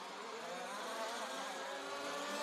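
4WD electric RC race cars at the EFRA European Championships main final whine along the track, a continuous high-pitched buzzing motor drone that rises and wavers steadily at moderate distance.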